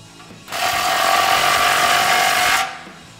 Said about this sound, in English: grab a 16 socket and tighten down the clamp